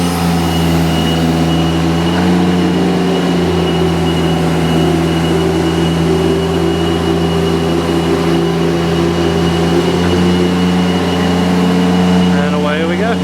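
Engine of a Nifty SD50 aerial lift running steadily at high speed, a loud continuous drone with strong low harmonics that holds even throughout, heard up close.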